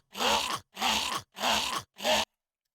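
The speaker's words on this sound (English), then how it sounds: "The when enemies die sounds like this." Enemy death cry from The Explorer: 3D Game Kit: four loud, drawn-out groaning moans in a steady rhythm, the last one shorter, standing alone without any speech.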